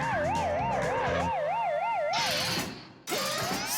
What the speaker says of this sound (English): the alarm goes off, making the siren howl and the light flash